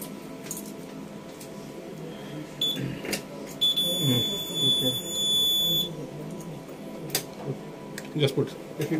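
A smoke detector alarm during a test of an FM200 aerosol fire suppression system gives a steady high electronic tone lasting about two seconds amid room noise, clicks and people talking.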